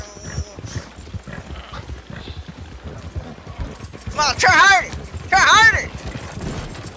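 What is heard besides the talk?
horse galloping in video game Red Dead Redemption 2 Online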